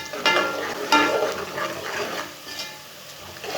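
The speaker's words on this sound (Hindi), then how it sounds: "अब इसे चम्मच चलाते हुए ब्राउन करना, नहीं तो जल जाएंगे।" Chopped onions frying and browning in a pan for chana biryani, with a spoon stirring and scraping through them in irregular strokes over a steady close sizzle.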